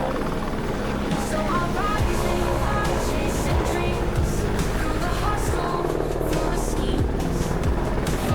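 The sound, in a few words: helicopter flying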